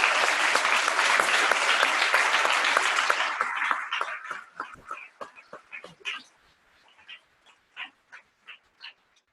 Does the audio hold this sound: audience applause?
yes